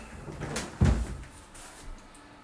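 Wardrobe doors in a rented flat swing shut with one close, solid knock, followed by faint rustling and a softer bump.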